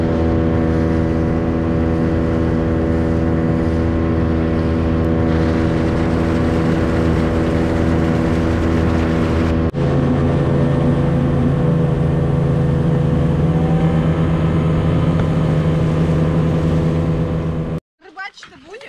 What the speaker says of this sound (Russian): Мы выдвигаемся большой компанией в три лодки на шикарную речку.